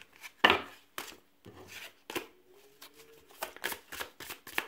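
Tarot cards being shuffled for a five-card draw, heard close up as a series of sharp riffling bursts and soft slaps of the deck, irregularly spaced and quiet.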